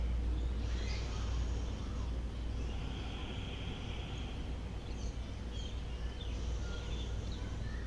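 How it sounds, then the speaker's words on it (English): Real wild birds singing outdoors, scattered chirps and trills carried at a moderate distance over a steady low background rumble. "Getting some great bird noises here."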